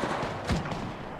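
Gunfire in the mobile battle royale game Apex Legends Mobile, a brief, muffled exchange of shots with one heavier thump in the middle, set against a busy, noisy backdrop.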